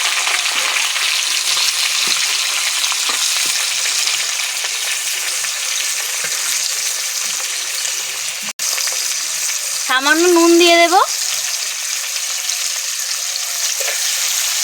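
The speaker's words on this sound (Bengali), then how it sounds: "পেঁয়াজগুলো ভালো করে ভেজে নেব" Three medium chopped onions fry in oil with a light tempering of spices, sizzling in a steady hiss throughout while someone speaks briefly over the cooking.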